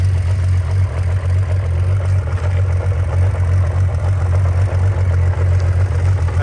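A Honda CBX1000 (CB1) motorcycle idles steadily with a smooth, even low hum, close and unbroken, with no talk.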